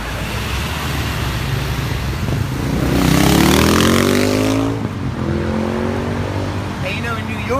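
A car accelerating on a street, its engine rising in pitch and loudness over a few seconds amid traffic noise, while people talk throughout.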